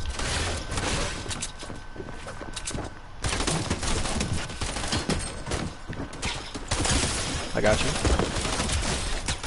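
Gunfire in a multiplayer shooter video game, bursts of shots running fairly steadily throughout and mixed with game noise while players talk over it.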